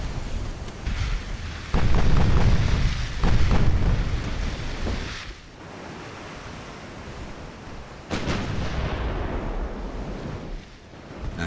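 Naval guns fire in a battleship engagement in the video game Ultimate Admiral: Dreadnoughts, heard as deep, rumbling booms that roll into surf-like washes of noise, with a second heavy burst partway through.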